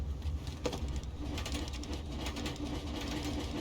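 A generator starts up in PUBG's zombie game mode. It gives a quiet, steady, rhythmic mechanical chugging that runs unbroken throughout.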